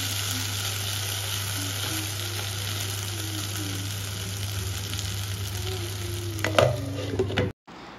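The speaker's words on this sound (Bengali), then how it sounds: "তো তাই জন্য এখন আলু ভাজছি" Potatoes frying in a pan for a simple home dinner, a loud, steady sizzle with occasional stirring clatter near the end before the sound cuts off abruptly.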